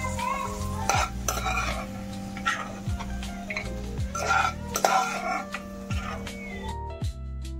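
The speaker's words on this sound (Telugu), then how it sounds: "కొబ్బరి పొడి కూడా ఇలానే కాస్త వేయించుకోవాలండి" Coconut powder roasts in a pan and is stirred repeatedly, a steady low sizzle with regular scraping strokes and occasional clinks of the utensil against the metal.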